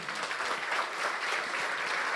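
Steady applause from a conference audience after a presentation, continuous clapping filling the whole stretch at moderate volume.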